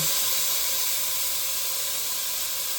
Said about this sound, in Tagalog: So, gigisa ko muna yung pork para yung mantika.